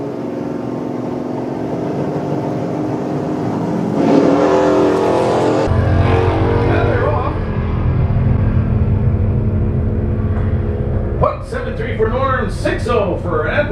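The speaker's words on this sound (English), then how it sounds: "That's a 1976 Chevy Camaro." A 1976 Chevy Camaro at a drag strip idles loudly, then launches with a roaring rev that holds and climbs, while an announcer talks over the engine noise.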